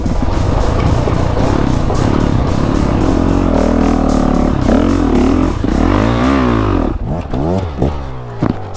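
Several dirt motorbikes start off together for a trail ride, with loud continuous engine drone and rising revs that sweep up and down as the bikes pull away and the sound thins near the end.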